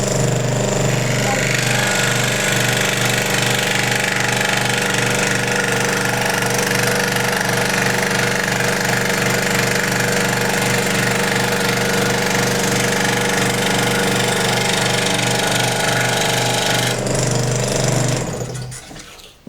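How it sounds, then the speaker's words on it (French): A scroll saw cutting thin wood gives a loud, steady rapid reciprocating buzz with a fine mechanical rattle, running continuously for most of the stretch before it winds down and stops at the end. "on va utiliser la machine à chantourner vraiment dans sa plus simple utilisation"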